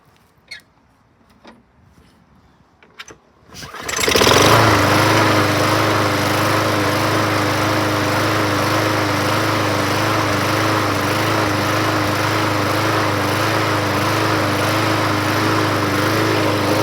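A 2008 Troy-Bilt XP self-propelled lawn mower engine starts after a few faint knocks and then runs loud and steady nearby, its drone wavering slightly as it surges.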